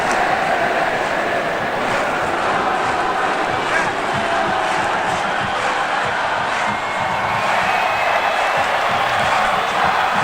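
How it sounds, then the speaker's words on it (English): At a GCW Collision wrestling event, a large arena crowd sings and chants in a dense, continuous roar, with a commentator's voice talking over it throughout. "Look at the crowd singing"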